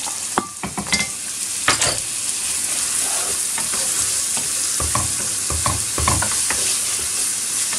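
Red and green peppers sauté in a pan for pollo al chilindrón, giving a steady, close sizzle throughout with scattered clicks and scrapes from stirring, busier near the start.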